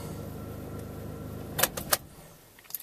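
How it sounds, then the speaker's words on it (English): A car being shut down after a drive that charged its battery: a low, steady engine hum stops, followed by a few sharp clicks and a jangle of keys nearby. "I'm going to shut the vehicle down."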